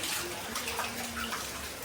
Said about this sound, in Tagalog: Itong submersible pump, kinukuha yung tubig papunta sa filter